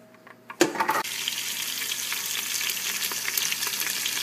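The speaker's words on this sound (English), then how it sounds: "We're going to put it in a hot pan" Olive oil heating in a hot pan, a soft thump and clatter at first, then a steady close hiss of sizzling that continues evenly to the end, no voices.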